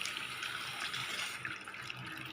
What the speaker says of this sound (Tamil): நம்ம வந்துட்டு இப்போ தண்ணி கொஞ்சம் ஊற்றிக்கலாம்.